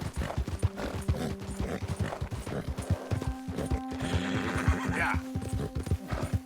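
Horse hooves clip-clop in a steady galloping rhythm with occasional whinnies in the Red Dead Redemption 2 video game, loud and close, with a person speaking briefly over it.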